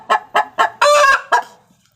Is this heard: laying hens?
yes